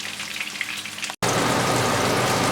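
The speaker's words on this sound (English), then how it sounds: "and allow it to fry" Fish frying in hot oil, a dense loud crackling sizzle close by that cuts out for a moment and then returns even stronger and steadier.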